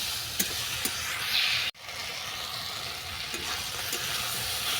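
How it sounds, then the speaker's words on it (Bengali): A mixed vegetable curry with grated tomato and sugar frying in a pan gives off a dense, steady sizzle with occasional stirring scrapes, interrupted by one sharp knock. "এটা আমি ভালো করে আরও 10 মিনিট কষিয়ে নেব।"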